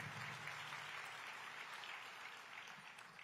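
Steady applause from a county commission audience at a State of the County address, a dense, even wash of clapping that holds for the whole stretch at a moderate distance, without talk over it.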